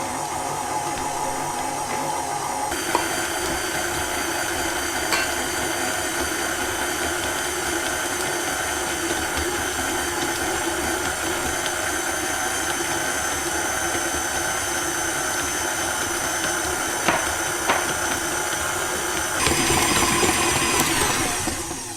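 A stand mixer kneading brioche dough as eggs are added one at a time, a steady motor hum and whir running unbroken, with a slight lift in intensity near the end and no talking.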